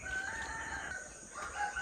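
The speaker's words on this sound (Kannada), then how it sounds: "ಅದು ಯಾವ ಹಕ್ಕಿ ಕೂಗೋದು ಗೊತ್ತುಂಟಾ" A bird calls out in a drawn-out, tonal cry, fairly clear over a quiet background with no one speaking.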